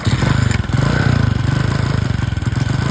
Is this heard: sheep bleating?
no